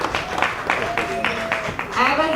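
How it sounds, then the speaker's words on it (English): An audience at a spring luncheon and celebration claps steadily in a continuous patter of hands, with a voice talking over the applause throughout. "Turn around so they can give you a round of applause"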